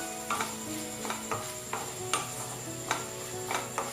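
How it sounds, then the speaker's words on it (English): Cumin powder stirred into boiled potato pieces in a pan, a spatula scraping through the vegetables in irregular strokes over a low, steady sizzle. "And 1/2 teaspoon cumin powder, and I'll give it a good mix."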